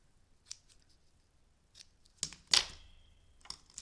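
Scissors trimming the edges of a paper craft project, a few quiet snips followed by one sharper cut with a short rasping slide, close by and alone.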